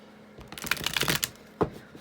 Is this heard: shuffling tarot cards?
yes